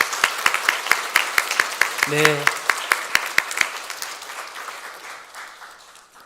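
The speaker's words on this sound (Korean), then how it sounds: "박수하겠습니다." Applause in a Presbyterian church service right after an adult baptism: a brisk, fairly rhythmic round of hand claps from the congregation, tapering off toward the end, with a short voice heard briefly in the middle.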